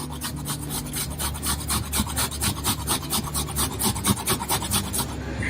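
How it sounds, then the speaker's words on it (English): White rind of a watermelon being grated on a hand grater, a steady run of close rasping strokes repeating quickly and evenly, with no talking. "So on a grater, you put the white part and just grate it"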